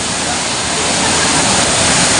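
Busay Falls in Babatngon, Leyte, flows strongly, giving a loud, close, broadband rush of water that holds steady throughout.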